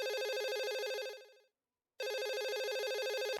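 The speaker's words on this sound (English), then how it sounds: "We've got a phone call." Telephone ringing for an incoming call, two loud electronic trill bursts separated by a short silence, clear and close with no talking.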